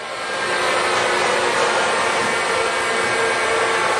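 A Bridgeport Series II heavy duty vertical mill with an 11 by 58 table runs at speed. Its loud, steady broadband whir and hiss spin up over the first half second and then hold evenly, with no talk.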